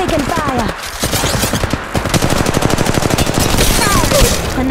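Rapid automatic gunfire in the mobile shooter Apex Legends Mobile rattles in long, dense bursts with scattered single shots, loud and close, with in-game effects layered over the firing.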